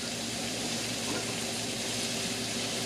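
A pot of water bubbles at a steady, rolling boil, a dense continuous hiss and gurgle heard close up.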